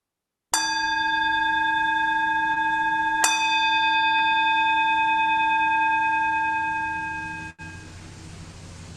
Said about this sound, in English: what I'd like to do now is to have a couple more bells.